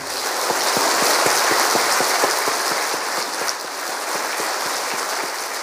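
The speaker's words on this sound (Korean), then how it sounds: "뜨거운 박수로 우리 맞이하겠습니다" Loud, dense applause from a large church congregation, steady clapping that fills the whole stretch without pause.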